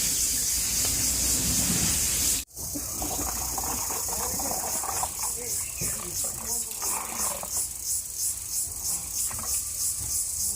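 Water drips and patters from freshly washed clothes in a light, rapid, rhythmic pattern against a steady hissing background, close by and moderately loud.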